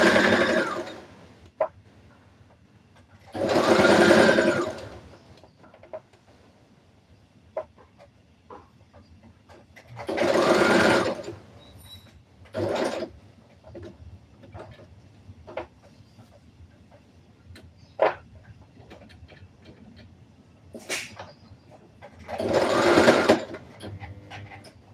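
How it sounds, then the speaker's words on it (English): A sewing machine back stitching a Christmas dress runs in several loud short bursts, separated by quieter pauses filled with small ticks and clicks. "I'm back stitching because I had skipped there."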